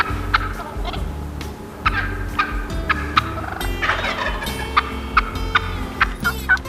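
Wild turkeys, hens and a gobbler, call repeatedly, with sharp gobbles and clucks at irregular intervals over a quiet outdoor background, some near and some farther off.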